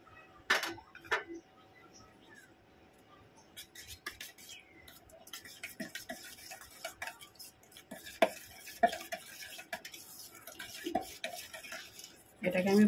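Yogurt beaten with 150 grams of sugar in a bowl for lassi, giving quiet, irregular clinks and scraping knocks of utensil against the bowl, with a louder clatter near the end.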